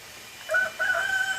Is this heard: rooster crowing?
yes